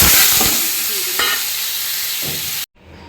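Mangoes frying in hot oil with mustard seeds in a kadai for chutney, a loud close sizzle with a few crackles and stirring scrapes that cuts off abruptly near the end, with no voices.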